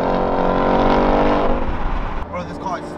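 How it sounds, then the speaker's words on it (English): A powerful V8 supercar engine revs hard and roars close by, then drops away as voices come in toward the end. "That V8 does sound nice."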